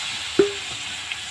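Chicken meat dropped into a pan of oil-fried spices, a sharp hiss at the start easing into a steady close sizzle with a couple of faint stirring scrapes.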